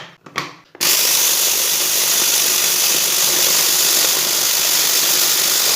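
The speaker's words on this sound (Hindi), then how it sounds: "दाल को ग्राइंड कर लेंगे और बादाम को भी साथ में ही डाल लेते हैं" An electric grinder runs steadily, grinding lentils and almonds together, loud and continuous after a few brief start-up bursts.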